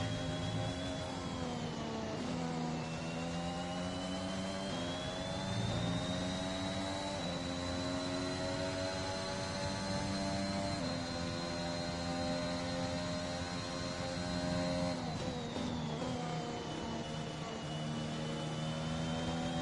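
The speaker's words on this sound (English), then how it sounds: "This is probably one of the Alpines." An Alpine Formula 1 car in the F1 2021 game at the British Grand Prix, a high, whining engine note that rises and falls with gear changes as it passes, steady and continuous with no talk.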